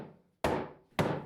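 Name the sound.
hammering tight-fitting parts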